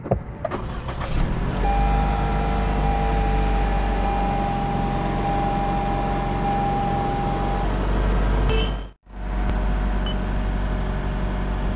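A 2017 Lexus NX200t turbocharged SUV engine starts with a brief crank and settles into a steady, loud idle. The engine cuts off for a moment near the end, then a steady hum returns.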